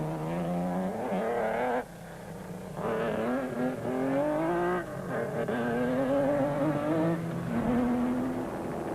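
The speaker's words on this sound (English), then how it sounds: "MC Coetzee in the GBS Racing Nissan was having engine management problems and proved difficult to overtake" Nissan race trucks in the Tarka 400 off-road race roar past with engines revving up and down through gear changes, rising and falling pitch repeating in loud bursts with brief dips between.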